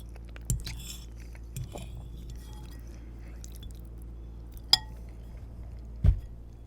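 Cold cheesy spaghetti topped with cheese puffs is chewed close up in a quiet room, with a few sparse crunchy bites and clinks of a utensil.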